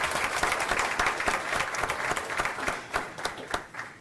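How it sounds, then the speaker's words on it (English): Audience applause fills a school board meeting, steady dense clapping throughout with a few sharper individual claps standing out near the end, no talk over it. "I do think that deserves a round of applause."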